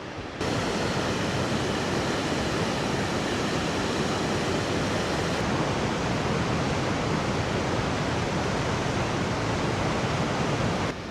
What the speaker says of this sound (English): This river runs through Canada